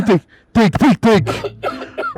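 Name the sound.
man coughing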